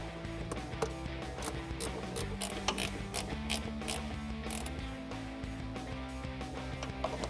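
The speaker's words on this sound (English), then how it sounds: "we're going to use a 10mm ratcheting wrench to tighten this down" A 10mm ratcheting wrench clicks steadily while tightening a K&N Series 63 AirCharger cold air intake on a 2018-2019 Mustang GT, with rapid close ratchet clicks over a continuous musical background.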